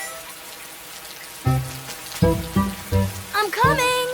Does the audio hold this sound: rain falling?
yes